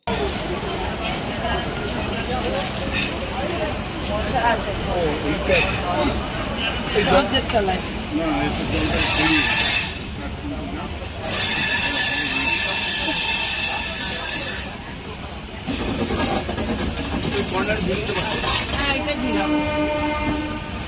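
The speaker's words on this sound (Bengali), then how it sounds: "একেবারে সামনে চলে এসেছে আমাদের ট্রেনটা, আমরা এবার উঠে পড়বো ট্রেনে।" A train pulls up at the Ayodhya Dham Junction platform, with steady rail rumble and hiss broken by several loud horn blasts. People talk nearby throughout.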